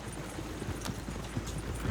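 Horse hooves clip-clop on the ground in the Red Dead Redemption 2 video game, a quick uneven run of soft, muffled steps under a steady low background, with no talk.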